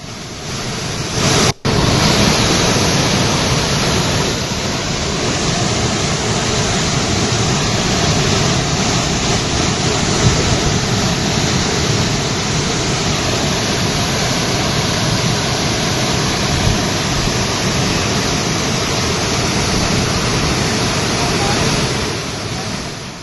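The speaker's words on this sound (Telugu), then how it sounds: "4 గేట్లు ఎత్తి దిగువకు నీటిని విడుదల చేస్తున్నారు జలమండలి అధికారులు" Torrent of water roaring out through four raised gates of the Himayat Sagar reservoir near Hyderabad after the water level rose, a loud, steady broadband rush that holds unbroken throughout, with one brief dropout near the start.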